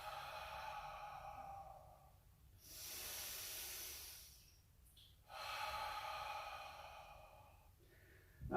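Slow, deep breathing during a yoga pose, with two long airy exhales or inhales separated by quiet pauses, close and fairly soft, with no talking.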